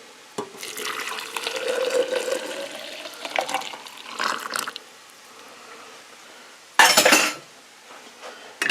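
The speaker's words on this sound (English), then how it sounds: "And then we just pour our water in." Water pours into a container in several bursts with pauses between, close and splashy, ending with a short louder gush.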